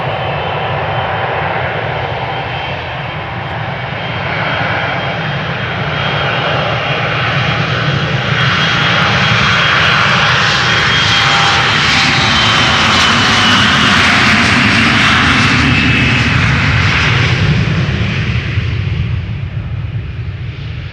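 Jet airliner taking off from the Polderbaan runway at Amsterdam Schiphol, a loud, steady engine roar that swells to a peak midway and then slowly fades as it climbs away, heard alone without talk.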